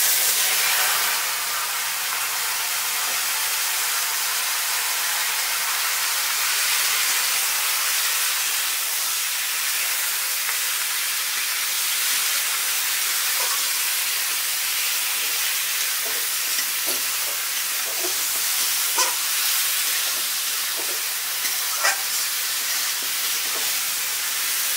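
Country chicken meat for a spicy chicken kosha hitting a hot pan, producing a loud, continuous close-up sizzle and hiss of frying that holds steady throughout, with a few light crackles and pops toward the end.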